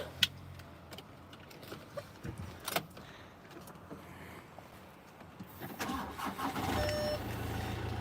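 A car engine is cranked and catches near the end, settling into a steady idle after a few seconds of quiet interior clicks and small knocks, heard close up from inside the vehicle.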